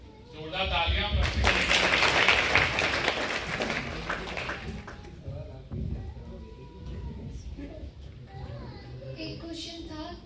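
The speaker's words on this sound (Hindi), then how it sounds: "जोरदार तालियां।" Loud applause from an audience at a Holi gathering swells in the opening seconds, then fades into a lighter patter of scattered claps with murmuring voices behind.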